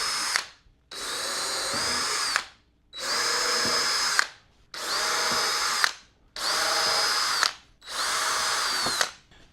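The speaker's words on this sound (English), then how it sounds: "I'm going to pre-drill the holes." A power drill pre-drilling holes in wood for a cross cut sled, six loud, close whirring runs of about one to two seconds each, separated by short silent gaps.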